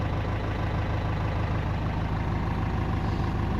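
A safari vehicle's engine idles steadily near an elephant in Botswana's Okavango, a loud, continuous low rumble with a regular throb, alone without voices.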